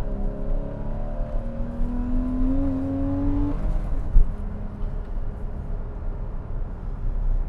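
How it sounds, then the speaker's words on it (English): A 2014 Porsche Cayman climbs a hill under load, its engine note rising steadily before a gear change, then continuing as a steady road drone with tire and wind noise. "We're going to go ahead and take it up this hill here as well, so you have a little bit of an idea of switching through the gears"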